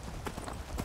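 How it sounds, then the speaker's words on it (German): Horse hooves clip-clopping in Skyrim, a quick series of soft, fairly faint thuds at a galloping pace with no talk over them. "Und dann setzt der andere sich auf ein Pferd und reitet erstmal los."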